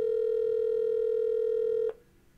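A steady telephone tone sounds while a call is placed to a sister, holding loud and unbroken for nearly two seconds before cutting off, leaving only faint background hiss.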